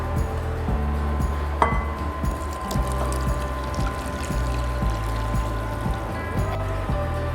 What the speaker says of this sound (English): Now to add in hot water.